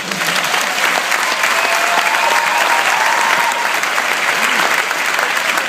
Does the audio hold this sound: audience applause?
yes